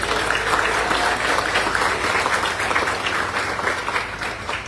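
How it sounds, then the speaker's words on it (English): A crowd applauds the Central High School Marching Sugar Bear Band at an outdoor arena groundbreaking ceremony in Macon. The clapping is steady, dense and fairly loud for several seconds, with no talking over it. "Can you give them a round of applause again this morning?"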